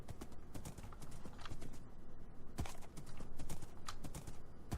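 Horse hooves clip-clopping steadily at a trot in a video game, loud and close, with a rhythmic clatter and no talk.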